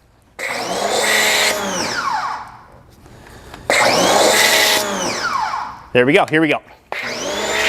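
A Masterson's Vortex G2 foam cannon sprays foam in loud, close hissing bursts. Two long blasts come with pauses between them, then a short sputtering spurt and a final burst, while a voice speaks briefly.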